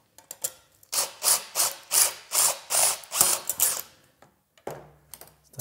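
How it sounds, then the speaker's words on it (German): A hole is drilled into rivet sheet metal, heard as a string of rough grinding and rasping bursts at close range, followed by a brief lower mechanical hum and clicks. "da kann ich jetzt noch schnell ein Loch reinbohren für die Aufnahme der Stanze"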